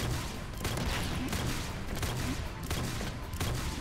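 Rapid video game gunfire with seeker missiles and a spear weapon, a dense continuous barrage of overlapping shots at steady loudness through the whole stretch.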